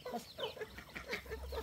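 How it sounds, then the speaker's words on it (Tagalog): A chicken clucking while being fed mango scraps, with a string of soft, close clucks and chirps in quick succession, fairly quiet and alone. "Kumain ka lang manok."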